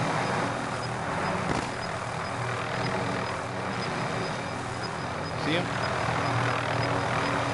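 A video game helicopter flying high gives off a constant loud engine and rotor drone that covers the whole stretch, with players talking over it.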